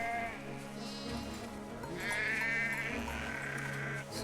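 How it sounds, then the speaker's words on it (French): A flock of sheep in the video game Valiant Hearts bleats repeatedly, several overlapping wavering calls over a steady low background hum, fairly quiet. "On avance avec le troupeau de moutons."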